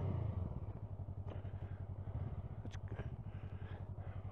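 A 2022 Honda CMX 500 Rebel's twin-cylinder engine idles quietly nearby with an even, throbbing pulse and faint clatter, steady for a few seconds with no voices.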